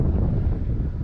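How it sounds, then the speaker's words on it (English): Gusty wind buffets the microphone outdoors at a model airplane flying field, giving a steady, loud, low rumble with no voices. "the wind's kind of crazy right now"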